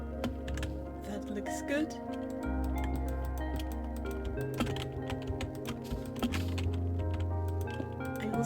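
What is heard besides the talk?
loud clicky computer keyboard typing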